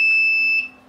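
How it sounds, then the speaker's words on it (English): A wireless home security alarm system with auto dialer gives a single short, high-pitched electronic beep that holds steadily for about half a second, then cuts off, heard alone and up close. "it just makes a small beep"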